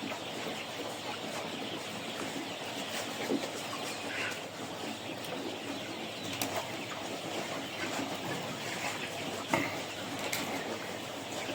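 Chickens cluck steadily in a noisy farmyard, a dense mix of overlapping bird calls with no talking.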